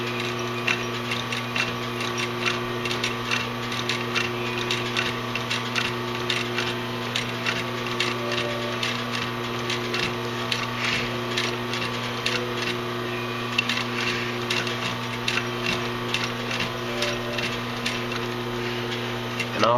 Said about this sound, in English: So what we'll do, we'll just sew across the top of the pocket. Always start with a back stitch.